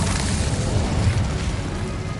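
An Incendio fire spell cast in Hogwarts Legacy erupts as a loud, deep, rumbling burst of flame that roars steadily for a couple of seconds, up close and with no talk.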